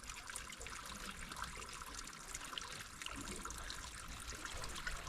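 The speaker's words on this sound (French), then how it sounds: "ça c'est une source que tu peux voir quand tu es ici et qui coule toute l'année en fait" A natural spring that flows year-round trickles along a coastal trail, a faint, steady watery babble heard from nearby with no talk over it.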